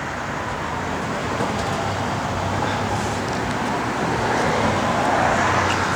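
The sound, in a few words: 1970 Chevrolet Nova SS 396 engine running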